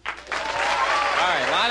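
Audience at a Las Vegas stand-up comedy show breaking into applause, a brief burst of clapping that swells quickly, with cheering voices rising and falling over it.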